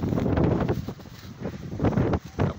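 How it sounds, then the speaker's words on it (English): A strong, dusty desert wind blows in Abuja, roaring steadily in loud, rumbling gusts that buffet the microphone, with no talking. "You dey see wind wey dey blow. Wind wey dey blow with dust."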